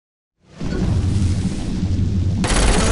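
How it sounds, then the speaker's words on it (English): Flaming bullets fired in Saints Row IV erupt into a sustained roaring, crackling blaze that rises abruptly and stays loud. A sharper, brighter burst surges near the end, and no voices are heard. "Fire. Particularly flaming bullets."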